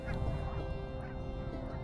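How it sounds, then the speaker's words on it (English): A flock of Canada geese with a few white-fronted geese and snow geese mixed in honks steadily at a park, a dense overlapping chorus of calls that stays loud throughout with no pauses. "The white-fronted goose have been spotted."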